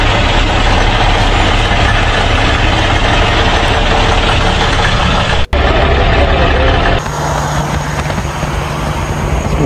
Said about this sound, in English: 1693 TA Caterpillar engine.